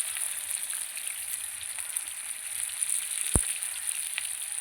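Potatoes frying in hot oil tempered with whole spices, giving a steady bright sizzle with small crackles and one sharp pop near the end, heard up close with no talking.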